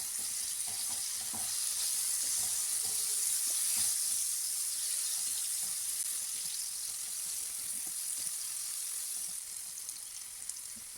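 Ash gourd pieces fry in hot oil over a high flame, giving a steady, close, continuous sizzle that fades slightly near the end, with no talking.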